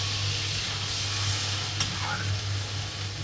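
Warm water hits frying spiced masala for a Bengali boyal fish curry, and a loud continuous close sizzle and hiss follows, steady throughout with a light stirring clink.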